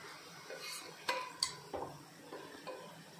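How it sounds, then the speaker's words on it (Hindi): A spoon stirs and turns onions frying on a high flame for mutton tahari, with several distinct metallic clinks and scrapes against the pot over a faint sizzle, close by and without talking. "हाई फ्लेम पे कंटिन्यूसली चम्मच को चलाते रहिए और प्याज को टर्न करते रहिए"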